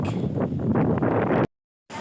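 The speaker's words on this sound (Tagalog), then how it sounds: "Ah, lakas ng hangin. Ang lamig." Strong cold wind buffets the microphone in a loud, continuous rumbling roar, then cuts out abruptly before resuming briefly at the end.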